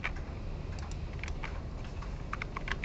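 Computer keyboard typing during a recorded lecture, a steady run of light key clicks that bunches into a quicker burst near the end, close to the mic over a low background hum.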